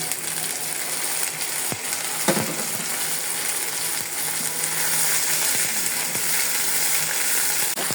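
Garlic and ginger paste frying in a pan after a splash of water, giving a continuous bright sizzle with a few sharp clinks and scrapes, close and fairly loud, no talking.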